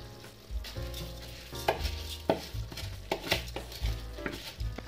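Spoon stirring basmati rice, vegetables and cumin powder in a pot for veg pulao, with scraping strokes and a light sizzle, close by and steady, no voices.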